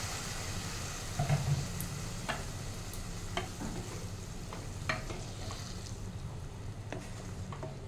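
Fish-head and potato curry spices frying in oil as water is poured into the pan, a steady soft sizzle with a few clicks and stirring scrapes, close and alone.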